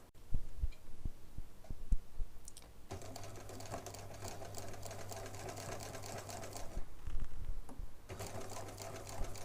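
A sewing machine stitches along one side of fabric bunting triangles, giving bursts of fast, even mechanical whirring. Brief handling taps and pauses come between runs.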